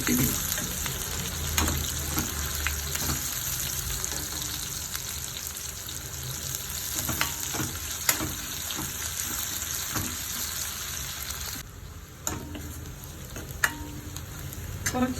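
Ingredients for a Kerala-style thattu dosa, including chopped items, sizzle steadily in a hot pan while being stirred, with occasional scraping clinks and taps rising over a continuous frying hiss throughout.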